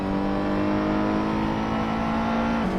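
A GT3 race car engine in a racing game holds a steady, loud drone on the Barcelona-Catalunya circuit, with a brief pitch drop near the end as it shifts or lifts.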